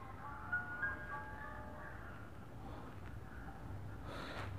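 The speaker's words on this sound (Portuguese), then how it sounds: "Carro do ovo passando aqui, galera." An egg-selling truck passes in the video game Granny, its loudspeaker playing a tinny, tonal jingle and announcement at a steady moderate level over a low background rumble, with a brief breathy burst near the end.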